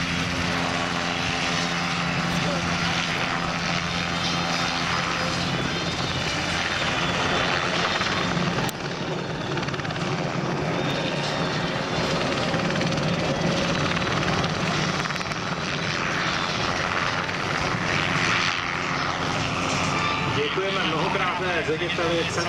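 An Enstrom 480D helicopter flies a display with pirouettes at the Pardubice air show, its rotor and turbine drone loud and continuous throughout, with a public-address announcer talking over it.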